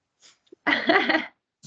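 A single short sneeze-like burst during an online class recording, close and fairly loud, preceded by faint breaths and followed by a quick intake of breath.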